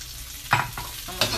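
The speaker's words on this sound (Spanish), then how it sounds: "Vamos a saltearlo por unos minutos." Snow peas, bell pepper and green onion sautéing in a pan, a soft sizzle under two quick scraping stirs of a utensil, brief and close.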